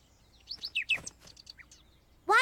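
Cartoon bird chirping in a children's animated show: a quick series of bright, high tweets, fairly close and clear over near silence, ending with a louder rising chirp.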